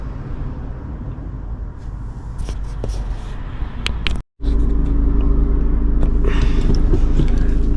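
A stopped car idles with the handbrake up, a steady low engine rumble heard from inside the cabin that cuts out for a moment and then resumes slightly louder.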